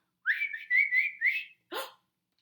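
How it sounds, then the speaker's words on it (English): A clear, high whistle rises and wavers in a few connected bursts, then breaks off, followed by a short breathy sound; close and alone. "Suddenly, there came a real whistle."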